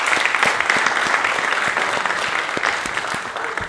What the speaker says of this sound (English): big round of applause to the organizers for the phenomenal job